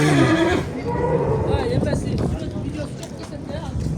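Horses neigh and whinny at a busy open-air livestock market, with loud calls in the opening half second and people talking throughout amid crowd and wind noise.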